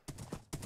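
Horse hooves clip-clop in Minecraft Bedrock, three quick, close thuds spaced evenly over a brief moment.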